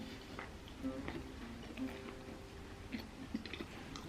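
Crunchy, thick, layered tahini pastry roll from a Turkish bakery being chewed, with quiet, close crunches and mouth clicks scattered over a few seconds.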